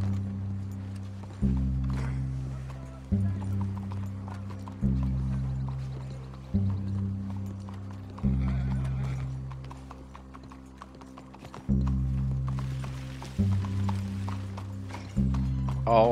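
Horse hooves clip-clop in Red Dead Redemption 2, a rhythmic series of close, heavy hoof thuds and clacks repeating steadily with faint mechanical creaks and game ambience underneath.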